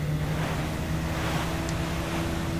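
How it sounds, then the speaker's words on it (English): A motorboat runs over water in Resident Evil 4, giving a steady low engine hum mixed with a continuous wash of water and wind noise. No one speaks. "I like my motorboat."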